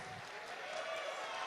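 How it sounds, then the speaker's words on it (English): Small studio audience of a few people clapping for the President of the United States, a thin, steady patter of applause lasting a moment with no talk over it. "can we just get a round of applause for the President of the United States?"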